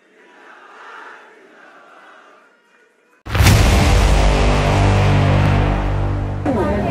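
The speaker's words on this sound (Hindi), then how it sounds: "भूगोल के लिए जोरदार तालियां" A crowd at a Jharkhand job appointment-letter ceremony bursts into loud, dense cheering and applause after a quiet, murmuring lead-in, and the roar holds steady to the end.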